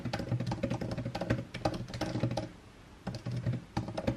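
Rapid clattering keystrokes on a computer keyboard pour out in dense, uneven bursts with a brief pause midway, close and crisp, with no talking.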